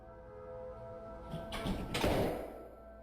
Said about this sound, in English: Oh, they finally opened the door.